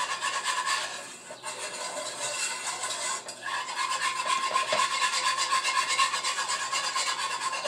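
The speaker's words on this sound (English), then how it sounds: "Now let me whisk that together." Ingredients whisked together in a bowl, a continuous scraping, rubbing rattle that runs steadily throughout, close and fairly quiet, with a brief pause near the start.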